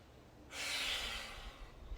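One strong breath, mostly nasal, taken during a Pilates Superman back exercise, starting abruptly after a quiet moment and holding steady for about a second and a half, close and unaccompanied by speech.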